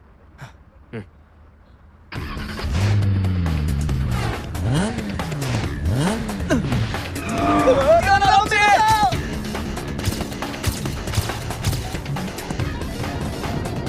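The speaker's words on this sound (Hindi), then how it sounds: "मेरी गाड़ी को नाजुक हाथों की बिल्कुल भी आदत नहीं है" A car driving in a Chinese drama scene dubbed in Hindi, with engine and road noise starting abruptly and running steadily under loud music, a brief high swelling tone rising in the middle.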